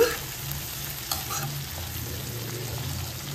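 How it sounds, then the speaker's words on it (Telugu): Tomatoes and onions frying together in a pan, with a steady close sizzle and a soft stir or clatter of the spoon near the start, no talking. "ఇప్పుడు టమాటాలు వేసుకుందాం."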